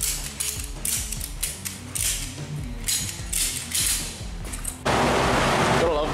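Ratchet straps click and crank repeatedly as a Daihatsu Move car is tightened down on a dyno, with rapid ratcheting bursts, then a steady loud noise at the end.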